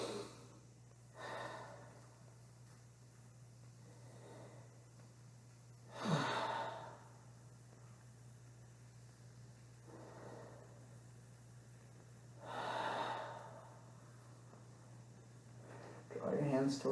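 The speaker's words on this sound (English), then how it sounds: "3 breaths here." Slow, deep breaths in a yoga child's pose, each long airy inhale or exhale swelling and fading at wide intervals, close and soft over a faint steady hum.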